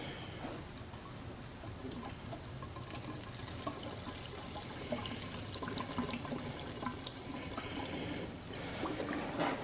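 Two-stroke oil mix being poured into a 1973 Volkswagen Beetle engine, a soft continuous liquid pour and trickle, close and fairly quiet, with no talk.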